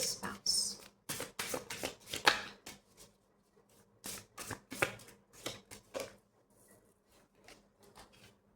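Tarot cards are shuffled and riffled by hand in a rapid series of crisp, papery bursts with short pauses between them, close and fairly loud, ending in softer, quieter shuffles.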